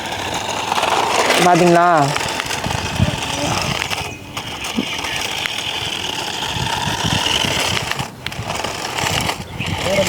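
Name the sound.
toy remote control car driving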